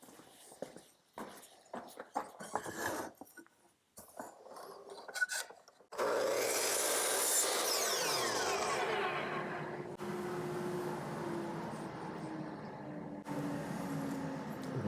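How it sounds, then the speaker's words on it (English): A table saw starts up and cuts through wood during a rocking horse repair. A dense, loud whine with a drop in pitch rises suddenly after some handling noise and shuffling, then holds steady through the rest of the cut. "let me run over to the table saw and I'll cut that"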